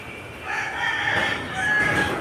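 A rooster crows loudly and close by, a drawn-out call with a rising, straining tone that holds for a couple of seconds.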